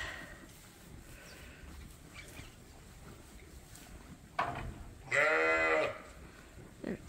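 On a sheep farm where ewes are about to lamb, a sheep gives a short bleat and then a longer, louder wavering bleat over steady outdoor background noise.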